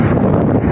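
Strong wind blows across an open spot on a scorching 45–47 degree summer day, a steady, loud rushing buffet against the microphone for a brief moment.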